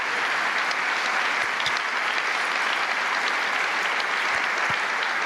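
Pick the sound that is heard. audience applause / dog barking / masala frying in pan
audience applause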